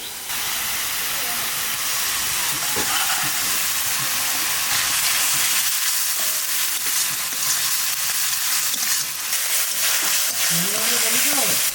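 Ginger, garlic and green chilli paste sizzles in frying onion paste, a continuous close hiss and crackle with faint stirring sounds and some background voice.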